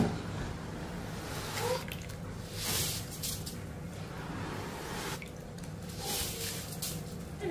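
Water dripping and trickling from a soaked weight-loss powder mixture strained through thin cotton cloth over a sieve, a soft continuous wet patter with intermittent squishy surges, close and fairly quiet.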